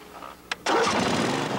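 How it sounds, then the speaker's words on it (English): A small V-twin engine on a radio-controlled miniature skid loader cranks briefly, then fires and settles into a steady, close running idle. "But the engine he starts is the V-twin that powers what he calls his Robocat."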